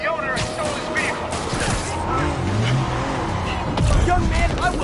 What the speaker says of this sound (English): All units, we have a vehicle chase in progress